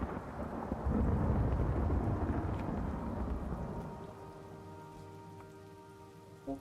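Steady rain pours in the Morrowind video game with a low rumble of thunder, loud and dense at first and then gradually easing toward a quieter hum.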